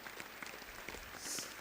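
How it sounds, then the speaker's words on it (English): Applause rises across a seated audience at a school event marking the International Day of Human Space Flight as a guest walks in, a dense patter of clapping that swells toward the end. "a huge round of applause"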